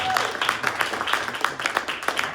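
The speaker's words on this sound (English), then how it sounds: "Let's give him one more round of applause." An audience at a casual evening poetry and music gathering claps for a performer in a round of applause, scattered and fairly close, with talk mixed in.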